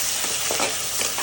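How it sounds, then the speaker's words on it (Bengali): Chopped onion, chilli, tomato, ginger and garlic fry in mustard oil in a frying pan, giving a steady close sizzle with a few soft stirring scrapes and no talking. "আর সবগুলো একটু ভেজে নেব।"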